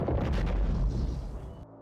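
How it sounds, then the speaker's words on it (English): A heavy boom like a cannon shot as old chimney bricks, mortar and soot burst into a room during a lightning storm, a loud rumbling blast that fades quickly. "A sound like a cannon shot"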